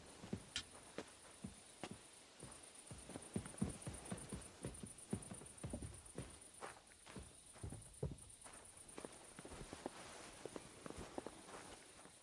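In the video game Kingdom Come: Deliverance II, horse hooves clop steadily on hard ground at a walking pace, close and distinct, over a thin high-pitched electronic whine that cuts in and out.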